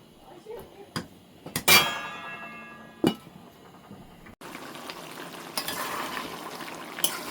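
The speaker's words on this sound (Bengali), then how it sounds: "পানিটা শুকিয়ে গেছে, আরও আমি ভাজা ভাজা করে ফেলবো" Beef curry in a pan as its water cooks off. A few sharp clanks and scrapes from stirring come first, then a soft, continuous frying sizzle takes over, with someone speaking at moments.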